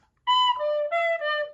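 Tin whistle playing the opening pattern of the Kerry Polka: four clear, sustained notes stepping down in pitch, played alone and close with a soft breathy tone.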